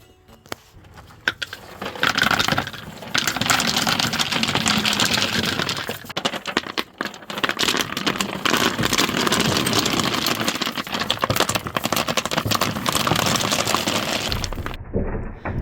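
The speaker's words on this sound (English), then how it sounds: "dumping gravel out in slow motion" Gravel being dumped out of a container onto a garden bed, a long continuous clattering pour of small stones that starts softly, swells loud and steady, then cuts off near the end.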